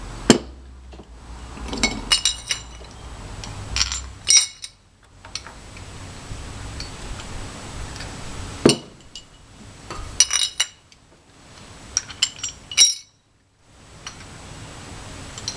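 Metal clinks and knocks as a wheel, bolt, washer and cotter pin are fitted to an iron survival stove: scattered sharp metallic taps and rattles with brief handling noise, close, separated by quiet gaps.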